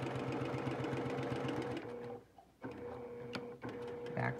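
A sewing machine stitches a fabric face mask in a rapid, steady mechanical whir, pausing briefly midway before starting again with a short stitch burst and resuming, close and clear with no talking.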